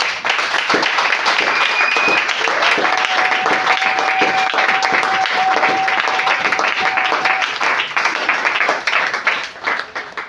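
A church congregation at an Easter service bursts into loud, sustained applause and cheering that lasts about ten seconds, with voices mixed into the dense clapping.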